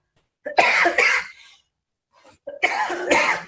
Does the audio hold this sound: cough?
yes